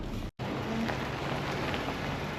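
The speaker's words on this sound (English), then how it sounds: "Hopefully set up quickly because the rain is coming. The wind just kicked up. I felt a few drops" Rain begins falling with wind gusting at a mountain campsite, a dense, steady hiss of drops close by with one brief cut near the start.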